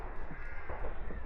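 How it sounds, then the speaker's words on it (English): Crows caw outdoors near a Scottish village, steady and fairly loud over a broad wash of wind or background noise, continuous through the short stretch. "It's got that crow sound to it."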